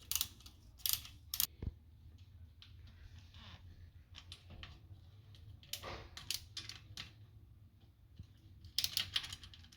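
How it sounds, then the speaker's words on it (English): Metal pliers clicking and scraping against a bike chain adjuster nut on an 80cc motorized bicycle, several sharp clustered ticks and grinding bursts scattered over a low background hum, fairly near and moderately loud. "we're gonna use pliers to hold the nut from the back"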